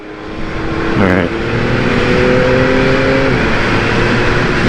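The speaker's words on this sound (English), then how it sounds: "The quick shifter, very nice. Ooh, nice and smooth." A Yamaha MT-09 SP motorcycle pulls hard with a loud rising engine note, then a quick-shift gear change cuts in briefly before the revs climb again amid wind rush.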